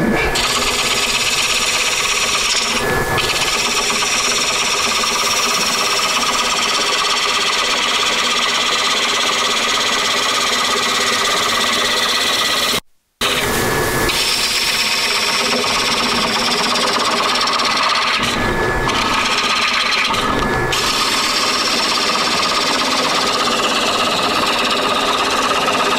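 Log being turned into a bowl on a lathe with a half-inch gouge: a loud, continuous rough chattering cut that runs almost without pause, with short breaks and surges as the tool is repositioned.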